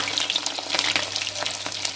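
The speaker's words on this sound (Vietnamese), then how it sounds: "Khi mà dầu sôi lên hẳn rồi thì mình mới cho cá vào để chiên." Fish deep-frying in hot oil, the fat fully boiling: a dense, steady crackling sizzle, close and loud throughout, with no talking.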